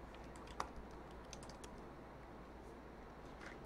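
Account details go in on a computer keyboard as quiet, quick keystrokes tap in short irregular bursts against a faint background hiss.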